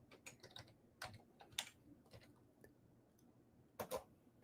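Quiet, close typing on a computer keyboard: scattered individual key clicks and a short burst of presses near the end, with no talking.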